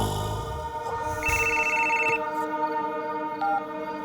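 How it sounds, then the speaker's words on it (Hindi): A telephone rings during a call in a Hindi-dubbed action film scene, a steady electronic tone pattern sounding at moderate volume over a faint background, with no talk over it. "मनीष को फोन लगाओ"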